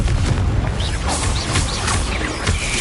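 A Confringo fire spell explodes in Hogwarts Legacy with a loud, booming blast and crackling burst, followed by dense rumbling debris that continues close and heavy for a few seconds.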